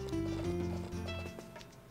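Horse hooves clip-clop in the farming game Harvest Moon: A Wonderful Life, a run of light, regular hoof taps layered over sustained background music.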